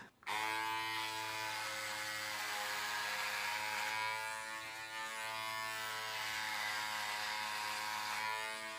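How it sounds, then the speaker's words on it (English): An electric razor buzzes continuously close to the mic, a steady high-pitched motor drone that starts abruptly and holds for several seconds with slight shifts as it moves across the face. "Time for a shave."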